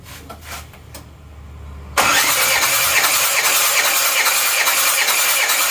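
An Isuzu Panther diesel engine cranks steadily on the starter during a compression test, a loud, even, rapid churning that begins abruptly after a few seconds of low hum and runs unbroken to the end.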